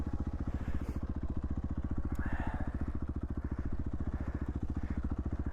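A Beta or KTM off-road motorcycle ridden over difficult terrain gives a fast, even, low-pitched engine thump that runs continuously at moderate distance.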